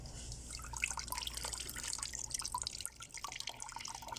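Water drips and trickles off a colander lifted out of a container holding a young Montezuma cypress or blue juniper's roots, with irregular close splashes and drops.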